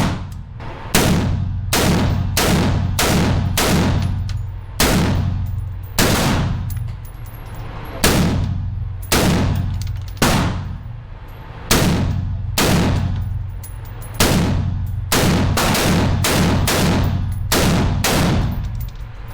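AR rifle fired at a shooting range, loud close gunshots in quick bursts of several rounds with short pauses between, continuing steadily through the whole stretch.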